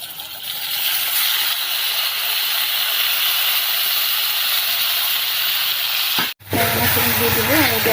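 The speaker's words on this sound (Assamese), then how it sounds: "আৰু এতিয়া ইয়াতে দিম এই বেঙেনাখিনি।" Eggplant pieces going into a hot pan with potatoes, giving a loud, steady broadband sizzle that cuts out briefly near the end, then resumes as a voice speaks over it.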